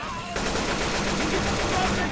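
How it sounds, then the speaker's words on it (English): Rapid automatic gunfire rattles loudly and continuously in the zombie co-op shooter Left 4 Dead 2, on the Cold Stream campaign, after a brief quieter moment at the start. "Why'd you walk in my fucking gunfire?"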